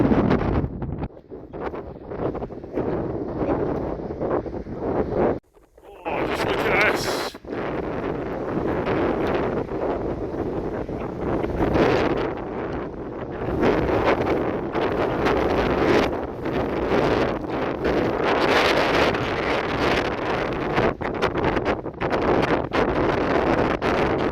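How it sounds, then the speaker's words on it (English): Strong wind buffets the microphone almost continuously on an Anglesey coastal headland, a loud, rough roar with gusty surges and a brief lull early on. "Very windy this week."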